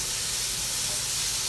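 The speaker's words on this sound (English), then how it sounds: "mushrooms, which are frying up very nicely" Mushrooms sauté in a pan of garlic butter while cross-rib steaks are being made, giving a steady, close sizzling hiss throughout the short stretch.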